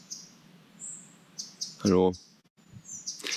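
A small forest bird gives short, high chirps and thin whistled calls scattered through a quiet woodland, while someone briefly speaks nearby.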